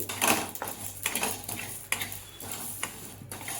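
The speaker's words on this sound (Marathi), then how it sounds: "ही जिरी भाजून घ्यायची आहे" Cumin seeds roasting in a pan with a utensil scraping and stirring, a series of close metallic scrapes and clinks in an uneven rhythm over faint background noise.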